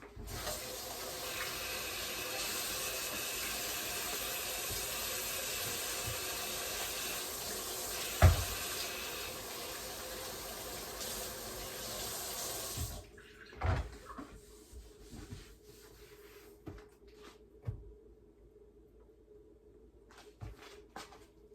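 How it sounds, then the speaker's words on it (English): A kitchen sink tap runs steadily while hands are washed beneath it, a close, constant rush of water that stops partway through, leaving scattered splashes, drips and small knocks. "I'm going to wash my hands."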